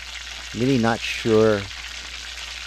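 King Kole fish and eggplant dumplings fry in a pan with a steady soft sizzle throughout, while a voice speaks briefly over it.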